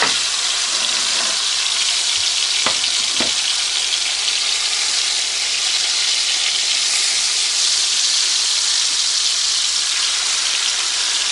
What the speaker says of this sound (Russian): И слегка обжариваем наши куриные бедра.